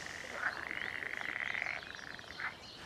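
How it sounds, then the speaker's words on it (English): Male northern pool frogs call in a breeding chorus, a steady, fairly faint purring croak that continues throughout with brief louder bursts. "Male northern pool frogs call during May and June to attract females to breed."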